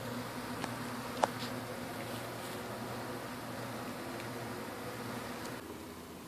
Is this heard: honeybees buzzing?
yes